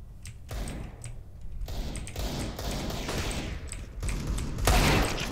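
Rapid fusillade of decoy grenade gunfire in CS:GO, a dense run of sharp shots over about five seconds, peaking louder near the end amid game ambience.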